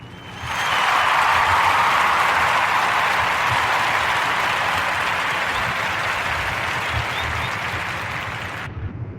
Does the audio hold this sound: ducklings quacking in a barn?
no